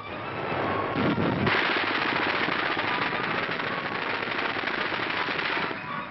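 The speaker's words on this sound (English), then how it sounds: "While foot soldiers penetrate with machine guns and automatic rifles." Machine gun fire in a WWII documentary on the German invasion of Russia: sustained rapid bursts of automatic gunfire with crackling shots, loud and continuous throughout.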